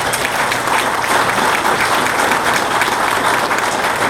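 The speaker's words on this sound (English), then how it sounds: "Let's just give her a round of applause" A banquet audience at an awards dinner breaks into steady, dense applause, many hands clapping evenly and continuously at close to medium distance, with no voices over it.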